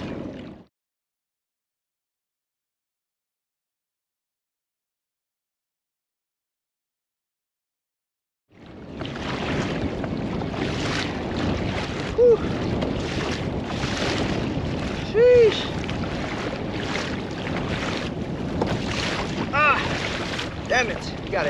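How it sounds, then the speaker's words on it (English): Ocean waves splash and churn around a kayak during halibut fishing, a continuous rushing wash with wind buffeting the microphone. It follows a long silent gap and carries a few brief sharp knocks. "Yeah, the waves are smashing this way, and I'm trying to go with the waves instead of against the waves."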